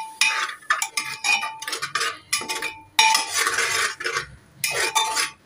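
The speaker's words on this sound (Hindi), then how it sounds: "इसको अच्छे से इसके साथ मिला देंगे।" A spoon stirs aloo matar masala in a metal pan, giving close, irregular bursts of scraping and clinking with short pauses between strokes.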